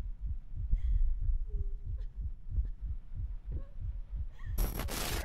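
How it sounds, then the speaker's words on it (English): Throbbing heartbeat in the horror video game Layers of Fear, deep rhythmic thumps pulsing steadily and loudly, with faint tones and a harsh noise burst at the end. "The heartbeat is even... It gets louder."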